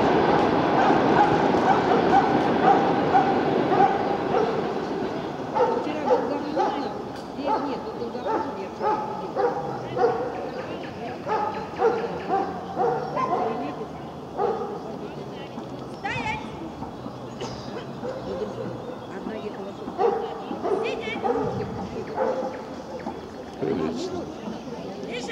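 Dogs bark and yip repeatedly in short bursts at a Moscow dog obedience and protection championship, mixed with loud crowd chatter and people talking throughout.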